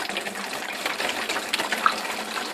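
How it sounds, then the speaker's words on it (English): Apple juice pours steadily into a glass demijohn, a continuous close liquid gush and trickle with no talk. "all I'm doing here is just pouring apple juice into the demijohn"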